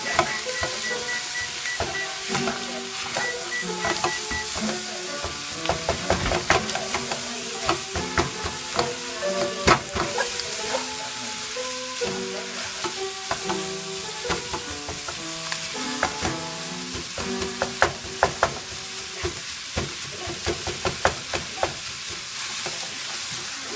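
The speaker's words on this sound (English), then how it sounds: "Just got to make sure all your sausage is browned" Sausage browns in a pan with a steady, loud sizzle and frequent scraping clatters as it is stirred and chopped, crackling continuously throughout.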